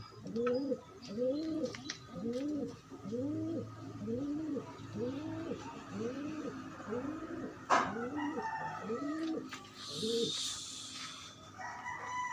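Pigeons coo in a steady series of repeated, rhythmic calls at a breeder's loft, close and clear, with a brief sharp knock and some higher bird sounds near the end.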